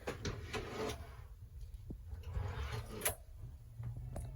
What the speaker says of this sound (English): may I present to you our very first drawer